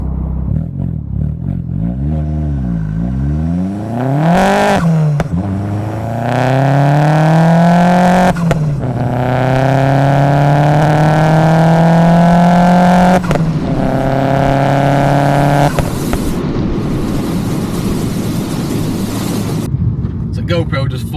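A Vauxhall Zafira GSI accelerating hard on a quarter-mile run, the engine note rising through several gears with sharp shift breaks, loud and close as if heard from inside the car.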